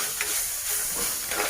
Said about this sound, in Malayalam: ഉള്ളി വാടിയതിന് ശേഷം ഒരു തക്കാളി അതിലേക്ക് മുറിച്ചിട്ട് ഇടാം നമുക്ക്. അതും നന്നായി ഇളക്കി